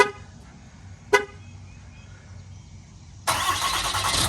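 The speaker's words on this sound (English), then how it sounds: "including this one, which is remote engine start" A short chirp from a 2018 RAM 3500 diesel pickup sounds once, then after a pause its engine cranks by remote start and catches, running on with a steady loud roar.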